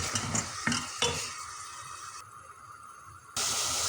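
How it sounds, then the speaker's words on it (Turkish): Tomatoes and onions sizzling in a pan, with several sharp stirring scrapes early on; the frying quiets briefly, then surges loudly again. "Domatesi biraz soğanlarla beraber kavuruyorum."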